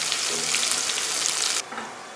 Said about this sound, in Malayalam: ഇപ്പോൾ നമ്മുടെ കടുക് പൊട്ടി വരുവാണ്